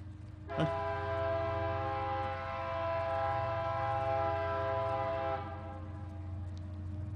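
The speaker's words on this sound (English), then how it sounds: "Let's let the train pass." Train passing outdoors during a book festival talk, its horn sounding one long steady chord for about five seconds over a low rumbling of the rail cars, then cutting off as the rumble continues.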